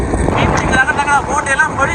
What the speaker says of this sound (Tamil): அதோட செம்மையாக காற்றுலாம் அடிச்சு கொண்டிருக்கு பாருங்க